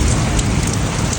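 Steady heavy rain falls outside, a loud, dense, unbroken hiss of drops on surfaces close by.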